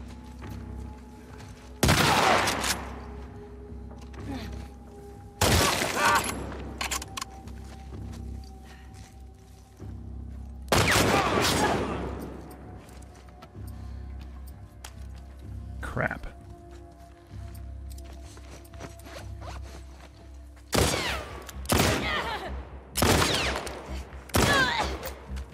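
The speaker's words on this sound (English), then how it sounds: "Who just shot at me?" Gunfire aimed at the player in The Last of Us Part II, loud sharp bursts of several rapid shots separated by quieter stretches, with a final cluster of shots near the end.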